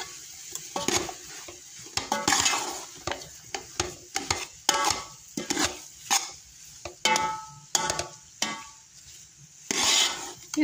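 A spoon scrapes and stirs semolina halwa in a pan in short, uneven strokes. The metal-on-metal clinks and rubs come close and distinct, with faint sizzling between them and no talking.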